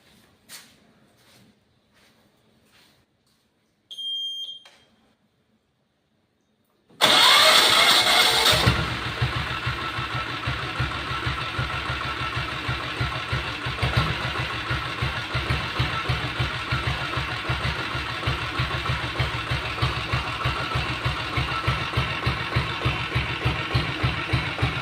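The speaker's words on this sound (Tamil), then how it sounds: "வாங்க இப்போ வண்டி ஸ்டார்ட் பண்ணி பார்க்கலாம் வாங்க" A red Royal Enfield Bullet Deluxe motorcycle with a self-start diesel engine is cranked over and fires. It then settles into a loud, steady, rapid thumping idle up close, after a few quiet clicks and a short electric whir.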